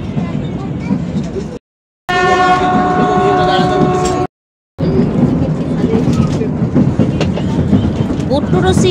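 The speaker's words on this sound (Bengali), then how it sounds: "আমাদের ট্রেন ছেড়ে দিল।" The Kalka–Shimla toy train, a narrow-gauge Shivalik service, rumbles along while its horn sounds a loud, sustained tonal blast mid-clip. Voices chatter under the steady rail noise.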